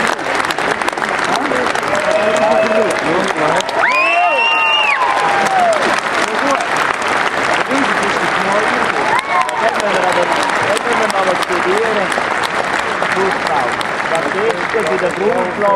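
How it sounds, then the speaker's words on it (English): A large crowd applauds the winning cattle at the Grand International Red & White dairy cow show, a loud, continuous roar of clapping that fills the hall while an announcer talks over it. "Give them a hell of a round of applause."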